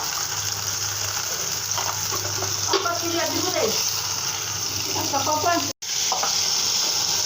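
Ginger, garlic, turmeric, chili and salt fry together in a pan, with an even sizzle and a few scraping stirs. A short voice passes partway through, and there is a brief dropout near the end.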